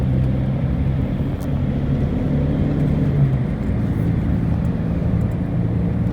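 A Volkswagen Bora drives and turns, heard from inside the cabin as a steady, loud low engine and road drone with no breaks, the tone shifting only slightly through the turn.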